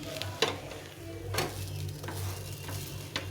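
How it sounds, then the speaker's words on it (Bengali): Chana dal snack frying in a pan until reddish, with a low continuous sizzle broken by a few scraping stirs of a utensil against the pan. No talking. "এভাবে ভেজে নিতে হবে"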